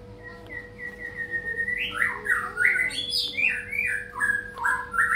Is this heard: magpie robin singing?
yes